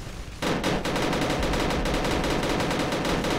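Rapid automatic gunfire from the video game Uprising 44: The Silent Shadows erupts after a brief quiet moment and continues as a dense, loud, unbroken stream of shots for several seconds, with no talking.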